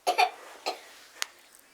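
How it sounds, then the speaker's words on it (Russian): A child coughs a few times, two quick close coughs followed by a softer one and a brief sharp sound, fairly near in a quiet indoor room. "он не сильно, как бы кашляет"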